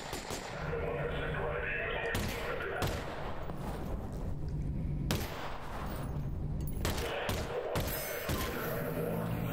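Gunfire in Half-Life: Alyx comes as bursts of sharp shots and heavy blasts between stretches of rumbling combat noise, fairly loud throughout, with a voice speaking at times.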